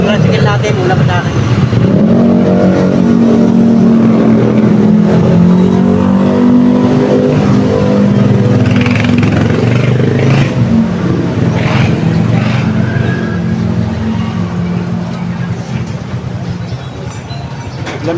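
A tricycle's motorcycle engine runs steadily and loudly while queued in a line, a continuous droning rumble with some revving swells, and voices talk over it.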